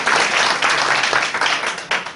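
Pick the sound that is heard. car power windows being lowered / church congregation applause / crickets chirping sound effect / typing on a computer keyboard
church congregation applause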